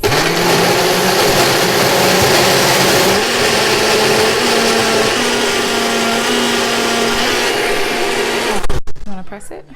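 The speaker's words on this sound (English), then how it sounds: "And I would say blend for about 30 seconds." A kitchen blender whirs continuously, blending a banana smoothie with added protein. The loud, steady whine runs for about nine seconds, then cuts off abruptly, leaving brief clatter and quiet.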